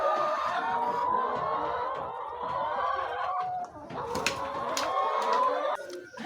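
Chickens on a poultry farm, laying hens among them, cluck and call continuously at moderate volume, with several birds overlapping and a few sharper squawks near the end.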